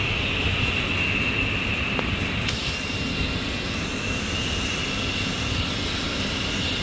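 A driveshaft spins at about 1200 RPM, giving a loud, steady mechanical roar and whine that holds constant throughout, with no voices heard.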